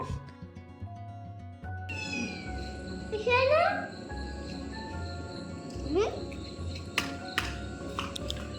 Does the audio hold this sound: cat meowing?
yes